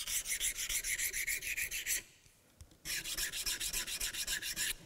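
A woodworking knife is touched up on a sharpening stone in quick rhythmic rasping strokes, close and clear, with a short pause midway before the steady strokes resume.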